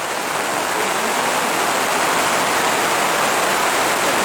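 Steady, dense rain pours down close by at an outdoor swimming pool, a constant even hiss with no pauses and no voices.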